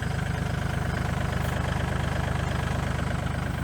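A Kubota tractor engine idles with a steady, even low rumble and throb. It runs continuously with no voices over it.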